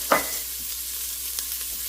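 Garlic and onions sizzle in a pan with browned fond on the bottom, a soft continuous fry with a couple of brief clinks of stirring close up, no voices.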